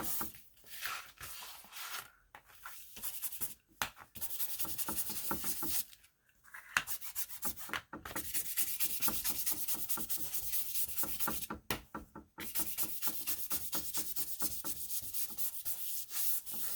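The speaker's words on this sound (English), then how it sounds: "That's the sound of my lamp whacking the table as I ink." Quick, irregular tapping and knocking of a desk lamp against a tabletop during inking, over a steady rubbing, scraping texture, faint and close, with short pauses between bursts.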